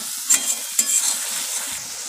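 Potatoes fry in a spice masala with a bright, steady sizzle, marked by two quick scraping stirs early on before the frying settles back to an even hiss.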